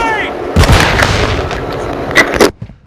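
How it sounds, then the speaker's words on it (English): A flash grenade goes off in Call of Duty Modern Warfare II, a sharp loud blast amid close bursts of gunfire and explosive cracks, with a final burst before the noise drops away. "Throwing flash grenade!"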